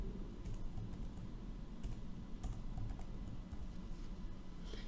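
Code being typed on a computer keyboard, a steady run of soft, quick keystrokes with irregular rhythm over a low background hum, close and moderately quiet throughout.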